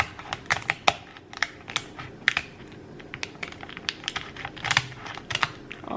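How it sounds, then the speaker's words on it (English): Kitchen scissors snip and crunch through a lobster shell in a run of sharp, irregular clicks, close and fairly loud. "I'm going to use a pair of kitchen scissors, and I'm going to cut right down the middle."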